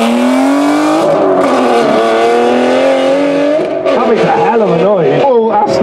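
An Aston Martin V12 supercar accelerates hard up a hill climb course at a concours event. The engine howls loudly and rises steadily in pitch close by, with people talking over it.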